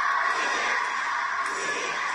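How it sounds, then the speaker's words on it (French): Wrestling crowd of around 1500 people standing in a hall, a loud, dense wash of cheering and shouting that holds steady without a break for a couple of seconds. "Écoutez la foule un peu. 1500 personnes qu'on avait debout dans cette salle."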